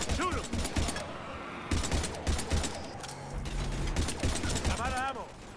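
Rapid gunfire bursts in the Mass Effect Legendary Edition video game, with repeated crackling shots, impacts and battle noise mixed under urgent voices and in-game chatter.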